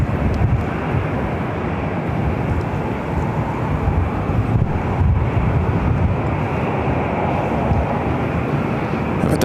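A Delta Airbus A321 jet airliner passing at Los Angeles International Airport, a loud, steady broadband roar with wind buffeting on the microphone, sustained without letup.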